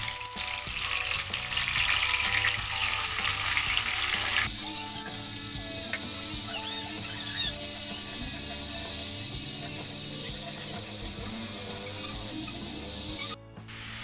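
Steady, loud sizzling and frying as a blended spice paste is sautéed in hot oil for risoles filling, with a crackling hiss that drops back slightly partway through and continues alone without talk.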